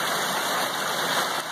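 Stony Brook stream on the Appalachian Trail near Stony Brook Shelter, water rushing over stones in a steady, close, broadband wash with no voices.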